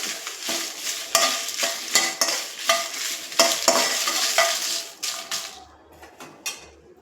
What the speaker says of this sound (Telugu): మనము ఇవి ఎండుమిర్చి కూడా వేపుకోవాలండి, ఆయిల్ అవసరం లేదు. ఇలా డ్రైగానే వేంపేసుకోవాలి.